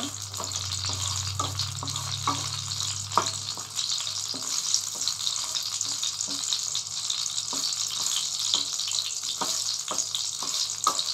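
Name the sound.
dried red chillies frying in hot oil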